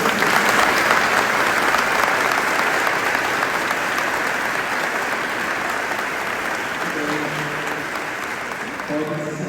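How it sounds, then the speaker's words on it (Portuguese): A church congregation applauds children during Mass, a long steady round of clapping that fades slightly toward the end, when a voice begins to speak over it. "uma salva de palmas para eles."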